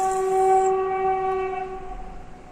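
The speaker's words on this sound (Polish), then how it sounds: "Pociąg." A train passing close by, a loud sustained horn tone ringing out and then fading as the rumble of the cars trails off.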